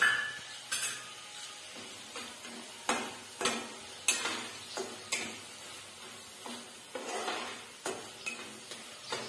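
Homemade red chili powder and masala sizzle and fry in hot oil, with repeated spoon scrapes and stirring taps against the pan at an irregular pace, close up and with no voices.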